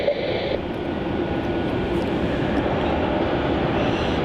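An airplane lands at Melbourne Airport, a loud, steady engine roar heard from outdoors that rumbles on without a break.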